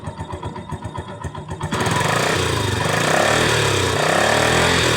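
A Yamaha YTX motorcycle engine, which misfires when riding, idles with a rhythmic putter, then revs up sharply into a loud, sustained roar that holds steady to the end.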